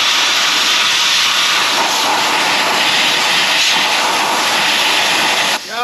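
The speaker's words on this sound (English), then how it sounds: "brake clean, pressure washer time." A pressure washer spraying the axles of a Ram 1500 truck, a loud, constant, close hiss of high-pressure water that stops just before the end.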